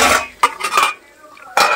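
A lid goes onto a frying pan of snake gourd fried with duck egg, giving loud, close metallic clatters in a few short bursts separated by brief quiet.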